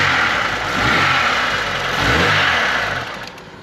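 A Vauxhall Corsa car engine, just revived after its dead battery, runs loud and close with a couple of swelling revs before it settles back toward a steady idle, with no voices.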